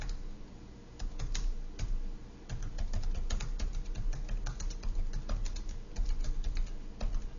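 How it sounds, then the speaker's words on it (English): Steady, close typing on a computer keyboard, brisk irregular key clicks entering text into a spreadsheet cell, with no voices over it. "if I type into the next cell down"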